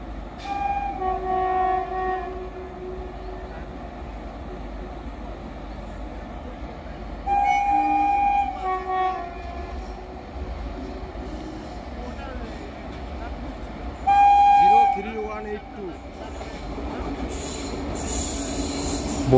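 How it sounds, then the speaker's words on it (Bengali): Balurghat-Sealdah Express on its inaugural run, hauled by a locomotive numbered 39-128, rolls into Jangipur station; sustained rumble and wheel squeal run throughout, with loud horn blasts near 7 and 14 seconds and voices on the platform. "বালুরঘাট শিয়ালদা এক্সপ্রেস জঙ্গিপুর স্টেশনে প্রবেশ করছে"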